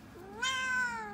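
A cat lets out one drawn-out, rising-and-falling meow, close and clear over quiet room tone, with no talking during the cry.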